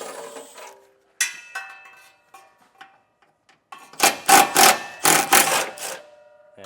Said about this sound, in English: Now we can remove our heat shield, and I got a 13mm socket.